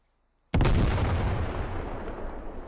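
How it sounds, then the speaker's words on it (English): An explosive charge detonates on a roadblock in the military shooter Squad, a sudden loud blast after silence that rolls into a long rumbling decay. "There's a charge going off on the roadblock"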